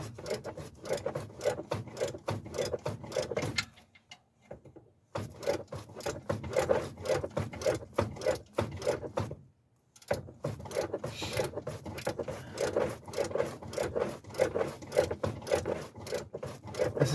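A breaker bar ratcheting slowly while loosening a serpentine belt tensioner bolt on a car, steady rhythmic clicking and grinding strokes with two brief pauses, close up and without talk.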